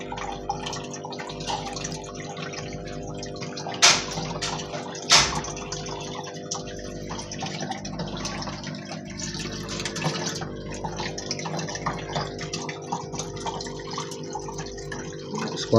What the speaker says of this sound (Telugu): ఇక్కడ నుంచి అయితే మళ్ళీ మనకి వాటర్ అయితే పైకి వచ్చి లోపలికి అయితే పడుతుంటాయి అన్నమాట